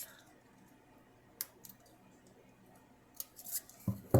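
Scissors snipping through a paper craft piece for a sewing machine treat box, a few quiet close crisp cuts spaced apart, then a louder burst of snips at the end.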